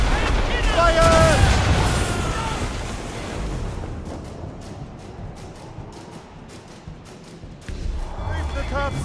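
Ship cannons firing in a naval battle in Assassin's Creed Rogue: heavy booming blasts and rumbling impacts, followed by a run of sharp cracking shots, with shouted voices and creaking noise in the mix.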